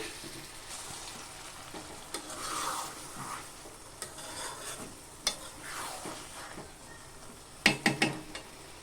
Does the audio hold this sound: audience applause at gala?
no